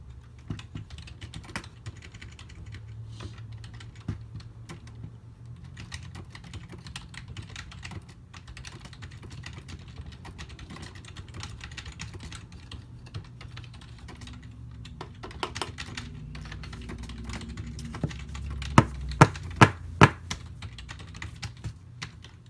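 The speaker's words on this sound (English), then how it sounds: "I'm just typing. Because this is, like, an old keyboard, and, like, those keys are fucking loud." Clattery keys on an old, loud computer keyboard, typed in bursts of sharp clicks at an irregular pace, with a few louder strikes near the end and no talk.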